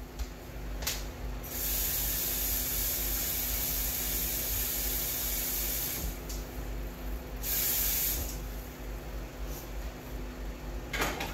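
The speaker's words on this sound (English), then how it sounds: "just put a little bit of water in the pan" A little water in a hot pan gives a faint, steady sizzling hiss, low and continuous, swelling slightly in a couple of spots.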